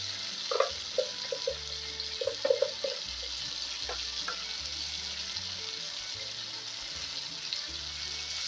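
Tomato and onion paste frying in a pot on high flame, a steady broad sizzle with a few brief clinks and stirring sounds early on, close and continuous without any talk.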